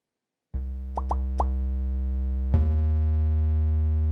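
A simple synthesized sine-wave bass line, built from a few notes, holds a deep steady tone, with a few short plopping blips near the start and a fresh note entering partway through, sustained and loud with no voices.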